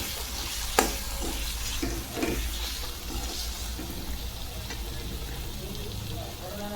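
Paneer cubes stirred into sizzling onion-tomato masala in a pan, a steady sizzle broken by a few clattering scrapes and knocks of the spoon, close up, with someone speaking.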